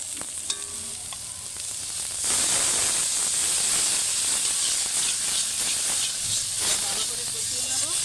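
Water splashes into a hot pan of frying chilli powder, cumin powder, fennel paste and salt for a boal fish curry, with a sudden loud hiss surging after two seconds and a steady sizzle continuing to the end.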